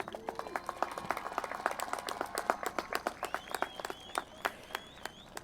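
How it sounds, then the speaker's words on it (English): A crowd claps at the Centennial High School 2021 commencement ceremony, a steady stream of many hands across the whole stretch, moderately distant, with a voice faintly heard among it. "Let's clap it up."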